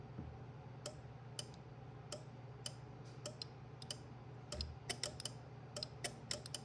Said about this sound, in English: that clicking that you're hearing is actually this relay, and also the relay inside my power supply